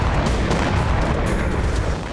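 A Ukrainian drone strike on a gas station in Belgorod, heard as a loud, sustained roaring blast with broad rumbling noise that holds steady for about two seconds, with no voices.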